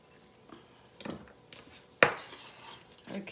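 A knife cuts through roasted garlic bread with a few sharp, crunchy strokes and knocks on a board, the loudest cut landing midway, up close with no talking.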